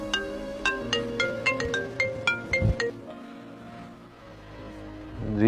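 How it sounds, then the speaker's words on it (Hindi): A phone ringtone plays a bright melodic pattern of rhythmic beeping tones for about three seconds, fairly quiet, then stops, leaving a low background hum. "ये किसका फोन आ रहा है?"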